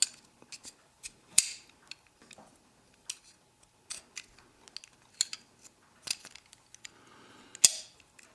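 The barrel bushing of a Girsan 1911 pistol with a full-length steel guide rod is worked loose by hand: sparse, faint metallic clicks, scrapes and sharp ticks scattered over quiet, with a few crisper snaps.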